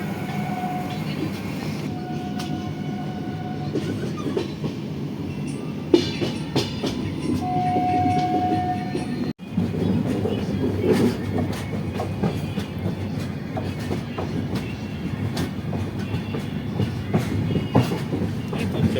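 A train approaching Puri station, a continuous rumbling roar with rhythmic clacking and occasional brief tonal squeals, heard from inside the carriage.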